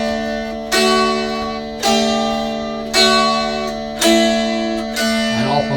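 Arlin Pound plays a mountain dulcimer inside Joralemon Cave, picking a melody on one string against a steady bass-string drone; four evenly spaced, ringing strums sound about a second apart, close and bright, each sustaining into the next.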